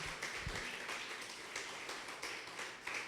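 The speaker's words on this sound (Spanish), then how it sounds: "Vamos a darle un fuerte aplauso al Señor" A church congregation claps together in a dense, steady wash of applause, heard faint and at a distance without letting up.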